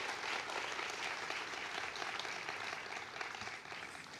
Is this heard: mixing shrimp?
no